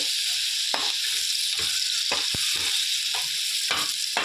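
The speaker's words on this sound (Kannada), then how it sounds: "ಬೆಳ್ಳುಳ್ಳಿ ಸ್ವಲ್ಪ ಕೆಂಪಾಗೋ ತನಕ ಹುರ್ಕೊಳ್ಳೋದ್ರಿ" Crushed garlic and cumin fry in hot oil, a loud continuous sizzle with intermittent scraping and stirring strokes, up close.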